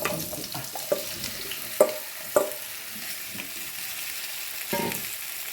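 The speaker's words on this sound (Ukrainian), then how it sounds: "Нагріла сковорідку з маслом, а тепер сюди я вигортаю картоплю" Potatoes sizzle steadily in hot oil in a frying pan, with several sharp clatters of food being scraped into the pan and stirred.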